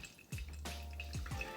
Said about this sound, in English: start pouring in the middle in slow circles going from the inside to the outside